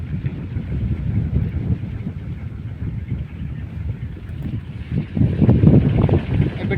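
Wind gusts around a small wind turbine, making a low rumbling buffet that holds fairly steady before swelling into a stronger, louder gust near the end.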